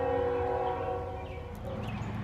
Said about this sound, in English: And as you can tell, there's a train in Harrodsburg.